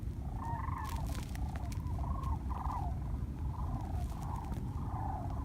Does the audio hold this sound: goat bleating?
no